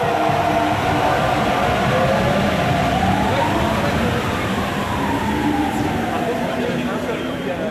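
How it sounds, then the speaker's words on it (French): A Paris metro train departing toward Saint-Lazare during a strike protest, a loud continuous rumble with rising and falling whine from the motors as it pulls away, alongside crowd noise and voices on the platform. "la rame est partie en direction de Saint-Lazare"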